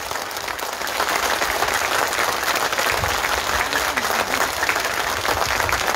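A large crowd at the Mahatma Phule Samata award ceremony in Pune claps loudly with raised hands, a continuous, dense roar of applause sustained for several seconds without speech.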